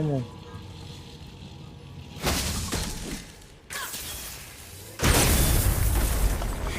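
Objects shatter in God of War (2018) gameplay on PS5, giving loud crashing bursts and booming impacts followed by crackling debris, repeated several times with noisy stretches in between.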